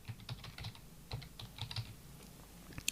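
Typing on a computer keyboard, a run of quick, fairly close key clicks in uneven bursts with short pauses, no voice over it.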